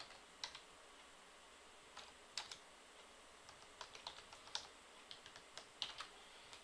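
Irregular bursts of keystrokes on a computer keyboard as a search is typed into a website, close and soft, with short pauses between clusters of taps.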